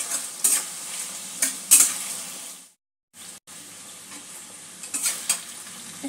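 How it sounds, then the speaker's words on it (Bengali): Spice paste is stirred into papaya frying in a pan, a soft hiss broken by scraping strokes and clinks of the spatula, with a brief drop to silence partway through. "মশলাটা একটু সবজির সঙ্গে মিক্স করে দেবো।"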